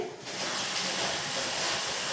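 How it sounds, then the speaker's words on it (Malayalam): Mango pieces fry in sesame oil in an iron pan, giving a steady, close, continuous sizzle that holds even throughout with no pauses. "ഇരുമ്പ് ചീനിച്ചട്ടിയിൽ കുറച്ച് നല്ലെണ്ണ ഒഴിച്ചിട്ടുണ്ടേ ഇനി ഈ മാങ്ങ ഒന്ന് ഇട്ട് വറുത്ത് കോരിയെടുക്കാവേ"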